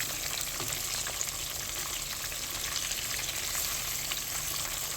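Catfish fillets fry in hot oil with a steady, dense sizzle and scattered crackling pops, close and even throughout with no voices.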